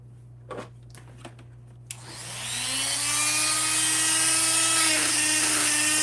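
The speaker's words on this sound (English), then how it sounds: "my sander is too big for the barrel. It won't fit." After a few light knocks, an electric sander spins up against a barrel, rising into a loud steady whine with a high buzzing tone that holds close and constant, pitch dipping slightly near the end.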